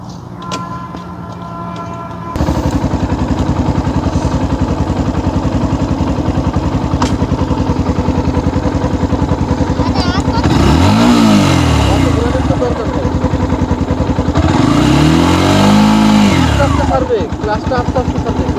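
A motorcycle engine runs at close range during a beginner riding lesson, idling steadily, then revving up twice in rising and falling swells, with a voice giving instructions over it.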